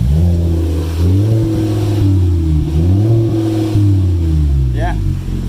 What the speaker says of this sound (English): That definitely sounds a little better.